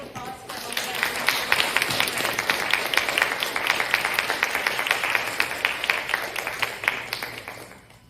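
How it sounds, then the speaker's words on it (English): An audience at a public speaking contest applauds a winner: a sustained, dense patter of many hands clapping at moderate loudness for several seconds, briefly rising and then fading out at the end. "can we get a big round of applause for"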